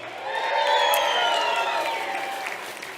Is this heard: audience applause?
yes